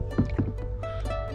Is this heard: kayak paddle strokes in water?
yes